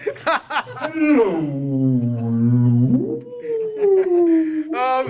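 A man imitates whale calls with his voice, starting with short yelps, then sliding into a long, low moaning tone that rises into a wavering higher cry, close and fairly loud.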